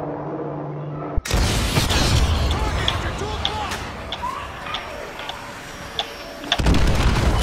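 Artillery hits exploding in Call of Duty: Modern Warfare 2 Remastered, heavy booms and rumbling blasts under radio chatter, with scattered sharp pops over a dense battlefield din.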